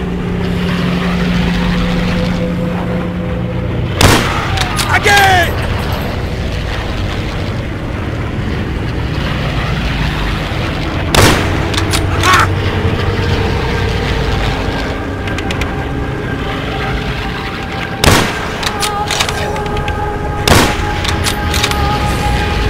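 Sharp rifle shots in Call of Duty: World at War during a sniping mission, a few isolated loud cracks spaced several seconds apart over a steady low game ambience, with no talking.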